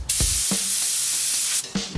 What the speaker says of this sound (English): now we're gonna spray this